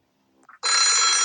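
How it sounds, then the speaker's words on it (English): A telephone rings loudly and steadily in the horror video game Otogirisou, starting abruptly after a few faint soft sounds and holding a bright, continuous electronic bell tone. "I decided to check out just what kind of device was making the phone ring."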